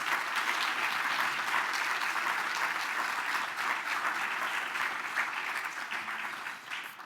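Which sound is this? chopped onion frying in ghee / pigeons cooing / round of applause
round of applause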